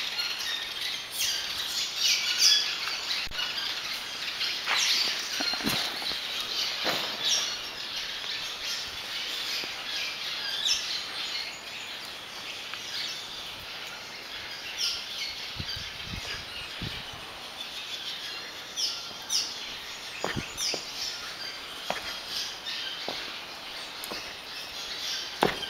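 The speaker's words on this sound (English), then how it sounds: "Or birds, I don't know what they are." Birds or bats squawk and chirp in a cave, with many overlapping calls at a steady level, some near and some far, over a continuous airy hiss.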